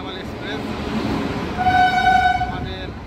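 Somnath Express pulling into Dwarka station, its horn blaring in a long, loud, sustained blast midway over busy platform noise with people talking nearby.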